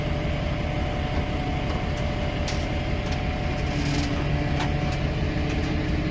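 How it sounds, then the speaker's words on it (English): A steady, droning Tesla car drive note idles and revs low, a constant rumble with faint intermittent clicks above it and no voices. "Hear that exhaust note?"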